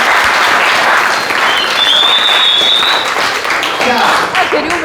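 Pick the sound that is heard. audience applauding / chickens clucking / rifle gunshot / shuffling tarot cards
audience applauding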